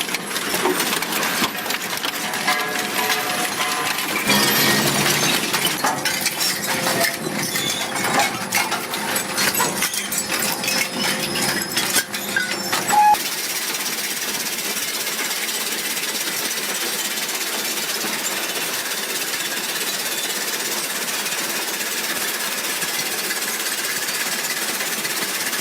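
A URX wood shredder runs with a loud, dense mechanical roar full of clattering and rattling. The sound is harsher in the first half, then settles into a steadier, slightly quieter grinding drone. No one speaks.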